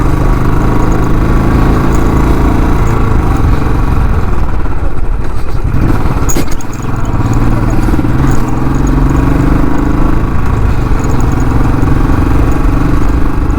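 Royal Enfield 350 BS6 motorcycle engine running after starting, a loud steady thumping idle with mechanical clatter, close to the mic and continuing for over ten seconds with a brief dip midway.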